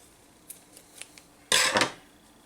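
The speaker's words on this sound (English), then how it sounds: "I do need a new pair of scissors" A few light ticks of scissor blades handling crochet yarn, then one loud, close snip cutting the yarn to fasten off a granny-style poncho block.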